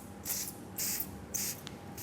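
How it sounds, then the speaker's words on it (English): Three quick bursts of fine mist from a spray bottle, evenly spaced, each a soft hissing puff over a quiet background. "just use a tiny bit of water in a spray"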